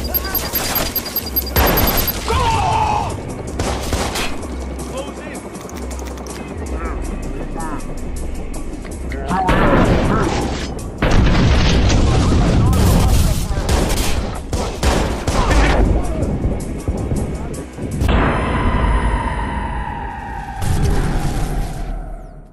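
Heavy gunfire rings out in a police shootout in the Watch Dogs: Bad Blood video game, with loud bursts and volleys of shots, blasts, vehicle noise and shouted voices over a long, chaotic stretch.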